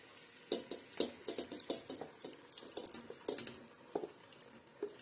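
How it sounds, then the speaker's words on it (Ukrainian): Chopped vegetables tumbling into a pot of partly cooked potatoes, a close run of wet clatters, splashes and stirring scrapes with irregular soft impacts throughout. "Тепер додамо до картоплі овочі."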